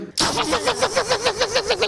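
On a comedy stage, a performer's voice imitates a bus engine starting: a sudden crank, then a loud, steady pulsing chug of about a dozen regular beats, close and alone.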